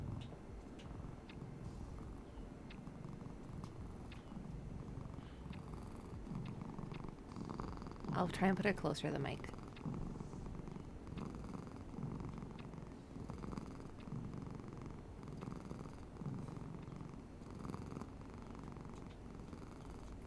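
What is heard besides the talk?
cat (Bean) purring loudly near the mic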